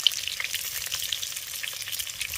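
Mango pickle seasoned with salt and turmeric fries in oil, giving a close, bright, busy crackle with rapid little pops throughout and no talking.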